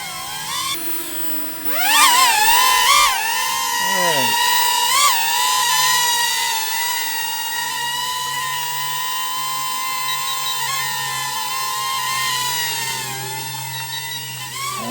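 Eachine E019 toy drone flying in spiral mode, a steady high-pitched motor whine that swoops and shifts pitch as it turns, with brief surges early on and a continuous buzz throughout.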